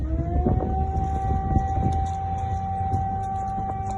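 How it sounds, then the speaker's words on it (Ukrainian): A steady air raid siren in Crimea holds one sustained wailing tone over a rumbling, noisy background, continuous throughout and fairly loud. "у тимчасово окупованому Криму вили сирени"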